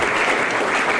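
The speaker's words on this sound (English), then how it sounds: "So give us a round of applause for this." An audience claps steadily and densely at an organ donation presentation, a brief burst of continuous applause at full volume with no voices over it.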